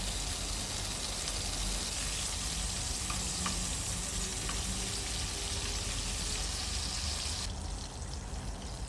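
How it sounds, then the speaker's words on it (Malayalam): Cherry tomatoes sautéing in a pan, a steady, fairly quiet sizzle and crackle of frying that holds even throughout with faint scattered pops and stirring. "അതിലേക്ക് നമ്മൾ ചെറിയ ടൊമാറ്റോസും ഇടും. അത് സോഫ്റ്റ് ആവുന്ന വരെ സോട്ട് ചെയ്യണം."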